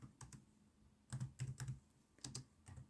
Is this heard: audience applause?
no